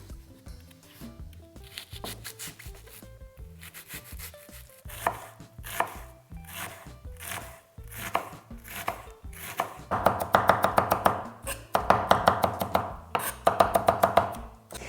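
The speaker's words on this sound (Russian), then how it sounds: "Очень мелко нарезаем одну луковицу." A knife finely chopping an onion on a board, starting with slower scattered cuts, then quickening into dense, rapid rhythmic taps near the microphone.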